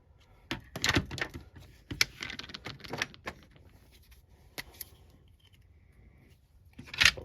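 Cutting a plastic G.I. Joe flak cannon part by hand, with a series of close, sharp snips and clicks spread unevenly across the moment, pauses between them and a louder burst at the end.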